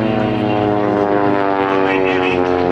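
Two aerobatic propeller planes cross low at an air show in Cambrai, their engines droning loud and close with a steady harmonic buzz that shifts slightly in pitch as they pass.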